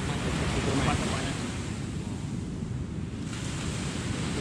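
Ocean waves breaking on a reef at Alas Purwo, Banyuwangi, a continuous heavy roar of surf mixed with strong wind buffeting the microphone, loud and steady throughout.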